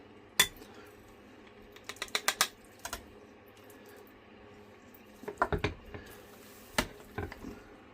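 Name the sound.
spoon scooping potatoes au gratin from baking dish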